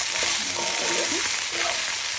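Broad beans sizzle steadily in a pan with onions, tomato and garlic paste, a loud continuous frying hiss close by with faint stirring underneath.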